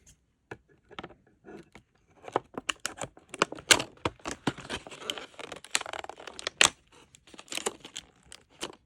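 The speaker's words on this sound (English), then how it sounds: "This packaging is really hard to get open." Repeated sharp snips and crinkling of stiff plastic packaging being cut with scissors to open a pair of kitchen scissors, irregular bursts close to the microphone with brief pauses between.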